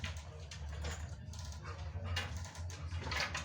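A restless dog indoors whimpers and yips softly in repeated short bursts over a steady low hum, with no talking.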